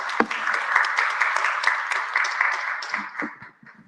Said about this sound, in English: I would like to invite all of you to join me in a round of applause to thank our excellent speakers